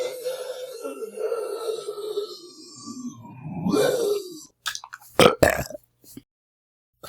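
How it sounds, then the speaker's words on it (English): An animated cartoon car character lets out a long, loud, drawn-out burp, followed by a few shorter sharp bursts of sound, then silence. "I can't stop burping."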